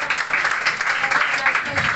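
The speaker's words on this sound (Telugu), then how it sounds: "ఆమె మంచి వాక్యం చెప్పిన మంగమ్మ గారి కొరకు అందరూ చప్పట్లు కొడతాం" A church meeting audience claps for Mangamma, a woman honoured after sharing a good Bible verse; dense, steady applause fills two seconds at moderate level with no talk over it.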